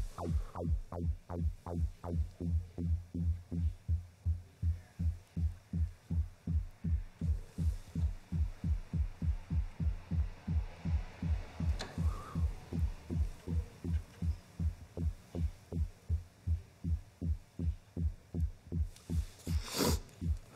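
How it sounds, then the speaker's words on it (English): Slowed synth bass patch shaped into a bass-drum-like tone, heard as a steady train of deep, evenly spaced thumping pulses that speed up slightly, with a faint airy swell near the end and no voices. "We are almost at a point where this sounds like a bass drum."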